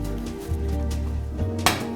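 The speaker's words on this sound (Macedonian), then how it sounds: "Една тава, во тавата ќе ставиме малку масло." A frying pan is handled on a kitchen stovetop before oil goes in, giving a few metallic clanks and knocks over a steady low hum.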